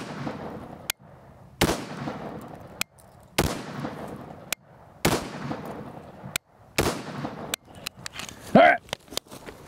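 A rifle fires 55 grain rounds at a test barrier, a series of sharp, loud cracks spaced irregularly, each followed by a short echoing decay, with brief quiet gaps between shots.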